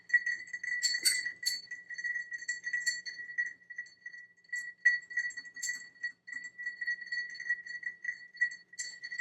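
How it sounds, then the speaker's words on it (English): A Woodford Reserve Double Oaked cocktail stirred over ice to chill it, producing steady, light, close clinks and tinkles of ice against glass in an uneven rhythm, fairly quiet with no talking. "stir for about half a minute or a little bit more to cool this off"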